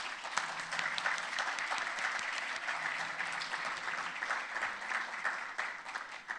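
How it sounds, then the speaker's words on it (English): Steady applause from an audience at a launch event for a free digital skills program, dense overlapping claps holding at even loudness throughout with no talk. "I think that deserves a round of applause."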